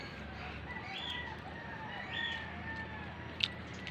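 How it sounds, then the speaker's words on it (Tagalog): A bird calls from a custard apple tree during a fruit harvest, with soft repeated whistled notes rising and falling a few times over a constant outdoor background hiss, faint and somewhat distant. "tumutunog na rin yung isang ibon."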